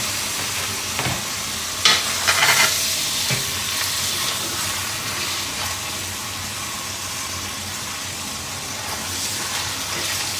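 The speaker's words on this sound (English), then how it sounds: "We're going to get these pork chops in there to sear in a nice brown butter." Pork chops searing in brown butter in a hot pan: a loud, continuous hiss and sizzle throughout, with a brief louder spatter as the meat goes in.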